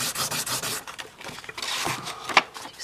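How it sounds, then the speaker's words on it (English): A rubbing of a flip-flop is made on paper, producing close, dry, scratchy strokes that sweep back and forth in quick irregular passes. "we're gonna do a rubbing of the flip-flop"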